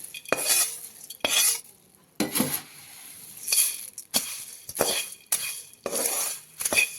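Puffed rice chivda masala being stirred in a kadhai: about eight close, separate bursts of scraping and rustling, each lasting under a second, with brief pauses between them and no voices.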